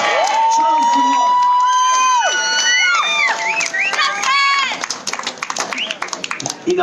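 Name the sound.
crowd clapping and cheering for chilli eaters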